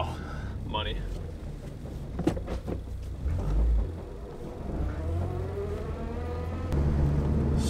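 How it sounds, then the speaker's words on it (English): A Honda Civic Si, an 8th-generation car, idles and rumbles low while backing out of a driveway, its engine note swelling briefly partway through, with a person talking over it and a short high squeal near the start. "I gotta back out of the driveway"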